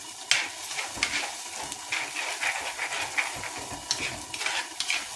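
A spoon stirs curry paste in a pan, making repeated scraping and clinking strokes over a soft, low sizzle. The sound is close and irregular, with no voices.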